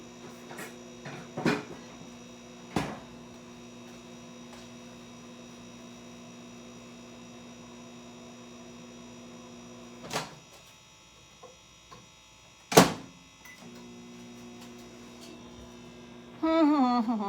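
A microwave oven hums steadily while melting butter, a constant close electric drone with a few sharp knocks and clicks, ending in a louder rise of noise at the finish.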